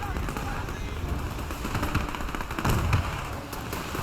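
Main battle tank cannon fire in Men of War 2 amid a battle with light tanks: continuous rumbling combat noise with repeated sharp blasts and a heavier, louder burst near the end.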